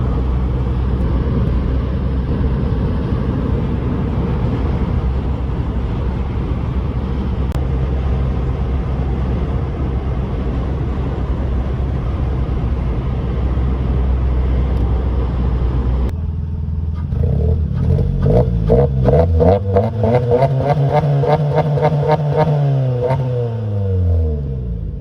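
Suzuki Swift Sport ZC32S fitted with a custom back box exhaust, driven on the road: a steady loud engine and exhaust drone, then revving with pitch sweeping up and down near the end.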